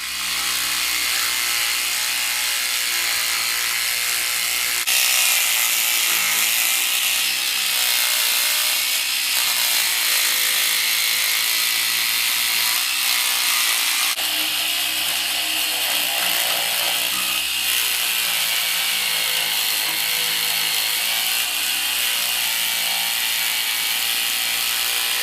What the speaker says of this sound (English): little saw. It's like a saber saw. It's much more gentle on the model than the Proxon jigsaw